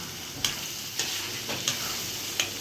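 Spices sizzle and hiss in hot oil without a break, cut by four sharp clicking taps at roughly even intervals.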